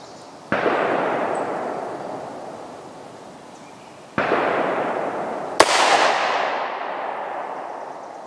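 Three loud gunshots from a Bond Arms Rowdy derringer firing Winchester 115 grain 9mm rounds, each a sharp crack with a long decaying echo, spaced a few seconds apart with the last two closer together.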